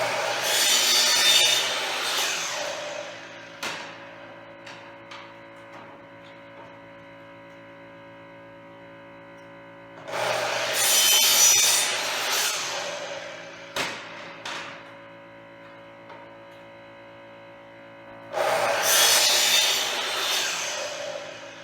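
A saw cuts through wood for a decorative pole-barn rail post, in three loud bursts of rasping strokes separated by quieter pauses, with no talk.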